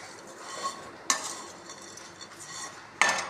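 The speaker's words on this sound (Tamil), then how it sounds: "ரொம்ப கருகாமல் திட்டமாக வறுத்து எடுத்துருவோம்." Semiya vermicelli roasts in ghee in a pan while a spoon stirs it. A soft, continuous sizzle and scraping carry a few distinct metallic clinks of the utensil against the pan.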